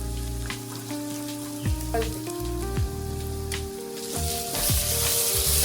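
Onion frying with ajwain in a pan sizzles steadily with crackling pops and a few stirring scrapes, moderately loud and close, alongside tonal background hum.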